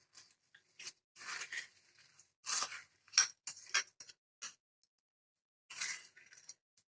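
Utensil mixing and beating batter made with date palm jaggery for pua pitha, heard as intermittent clinking and scraping strokes against a bowl in short bursts separated by pauses.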